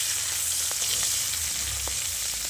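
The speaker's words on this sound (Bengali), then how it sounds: "ওই তেলের মধ্যে দুটো শুকনো লঙ্কা দিয়ে দেবো, আর কিছুটা পাঁচফোড়ন।" Dried chillies, panch phoron and green chillies fry in hot oil, a loud, dense, continuous sizzle with faint crackles throughout and no speech.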